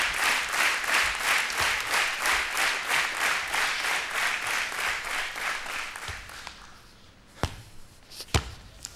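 A studio audience at the German game show Schlag den Raab claps in loud, rhythmic unison that fades after several seconds, leaving scattered thuds and a couple of sharp bangs.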